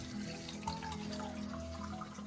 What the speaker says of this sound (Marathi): त्यात थोडंसं पाणी टाकते आता